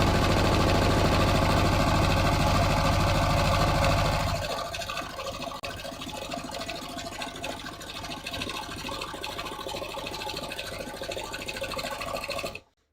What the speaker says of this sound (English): All right, so now I'm going to start sewing.